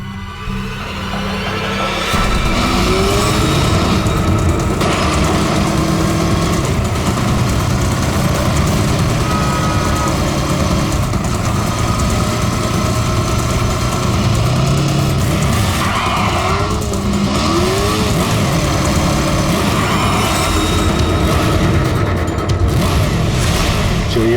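A motorbike engine revs and races at speed during a chase, loud and sustained for over twenty seconds, with rising and falling pitch sweeps, tire skids and traffic noise mixed in.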